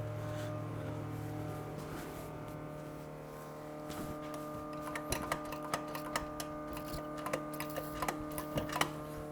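A fuel pump filling the carburetor bowls with gas on a car, heard as a rapid mechanical ticking that starts faint and grows into steady, sharper clicks over a low constant hum.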